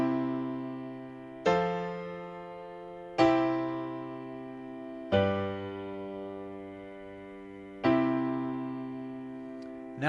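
A piano plays a three-chord progression with the chords in a rearranged order, each sustained chord struck cleanly and left to ring and decay before the next, five strikes over about ten seconds, solo.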